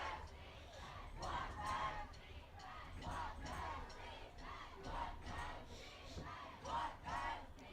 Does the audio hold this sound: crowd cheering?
yes